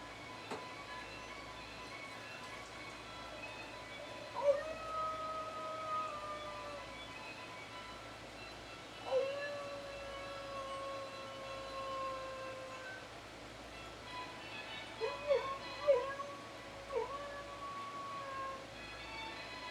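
A dog howls loudly in three drawn-out, wavering calls, spaced several seconds apart, with a shorter broken run of howls near the end, all over a low steady background hum indoors.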